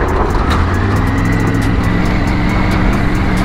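Loud, steady road noise of heavy trucks on a mountain road near Manali, heard from a motorcycle, with a continuous engine rumble and broadband wind and tire roar throughout.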